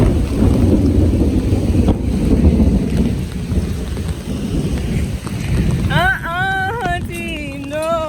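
Steady rain pours outdoors with a broad continuous wash and low rumbling undertones, loud and close; near the end a voice speaks briefly over the rain.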